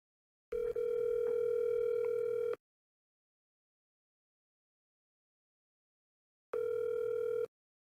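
Phone ringback tones while calling a cousin: two steady electronic buzzing tones, one about two seconds long and a shorter one later, separated by silence, no voices.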